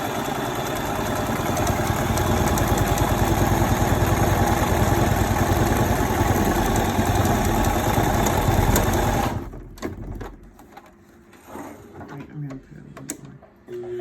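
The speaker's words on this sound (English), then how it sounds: "We're just gonna sew a seam on the long side of each one of them." A sewing machine runs steadily while stitching a seam along the long side of a homemade fabric face mask, a loud continuous mechanical whir that stops about two-thirds through, leaving quieter handling noises.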